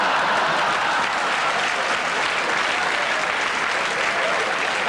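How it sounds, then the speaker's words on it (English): Steady, continuous applause from a comedy show audience, dense clapping at a constant loudness throughout. "Bit of a round of applause there."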